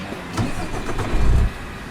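An International ProStar truck with a Navistar N13 engine starting in American Truck Simulator: a short cranking churn that builds into a low rumble and swells near the end before dropping off.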